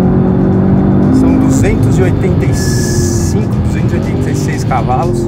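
An Audi TTS Coupé with all-wheel drive and 286 hp is driven fast around a race track. The engine holds a loud, steady drone with shifts in pitch, and someone talks over it.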